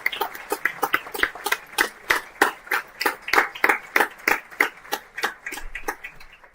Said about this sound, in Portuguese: queria uma salva de palmas para cada um desses preciosos